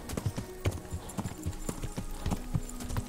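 A horse's hooves clip-clop at a steady trot while it is ridden in the video game Kingdom Come: Deliverance. The footfalls are close and rhythmic, with no voices.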